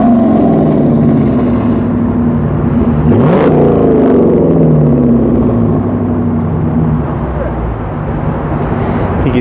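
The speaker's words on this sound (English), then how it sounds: "I think he's just showing the valves on the exhaust to show what it sounds like when they're open and closed." A 2.5-litre turbo car, likened to a Legacy GT, revs its engine as the exhaust valves are switched open and closed, a loud steady drone with a sharper rising sweep partway through, under faint talk.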